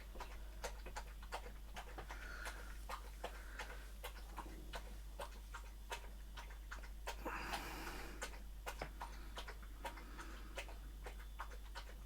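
A dog pants softly and steadily at close range in a quiet room, with rhythmic ticking clicks running through it and a low steady hum beneath.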